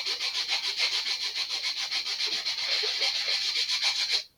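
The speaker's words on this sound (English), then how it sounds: "it's a good time to just sand it. This makes an awful sound" Continuous rhythmic sanding of a part during an Estes Green Eggs model rocket build, a harsh scratchy rasp of steady back-and-forth strokes, close and fairly loud, stopping abruptly at the end.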